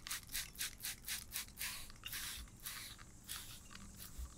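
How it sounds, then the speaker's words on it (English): A series of quick, close hissing spurts from a spray bottle of bleach onto a shirt, fired rhythmically one after another and then slowing to a few scattered squirts. "And then we spray."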